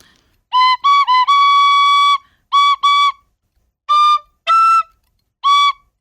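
A tin whistle played solo after years without practice, clean bright notes in short phrases with one long sustained tone and pauses between, close and loud against silence.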